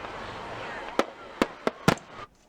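A fireworks show sound effect plays as four sharp, loud bangs in quick succession over a low crackling rumble, ending abruptly in near silence.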